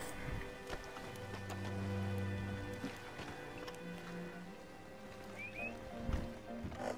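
Steady rain in the Red Dead Online video game world, a soft continuous patter with a few louder thumps and hoof-like knocks, light background game sounds throughout.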